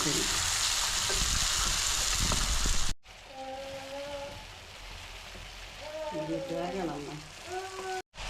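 Small fish fry in hot oil for a curry, a bright, dense sizzle that fills the first seconds, then quieter crackling under a voice speaking.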